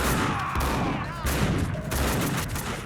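Rapid shotgun blasts and gunfire crackle in the game Max Payne 2, a dense, loud burst of overlapping shots with brief dips between volleys, filling the whole stretch.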